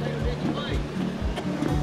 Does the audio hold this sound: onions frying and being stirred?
no